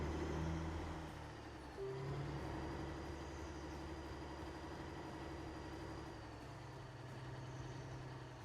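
A heavy truck engine from the Alaskan Road Truckers driving game drones steadily throughout at a low rumbling idle-to-cruise, with a brief hiss near the start, and no talk.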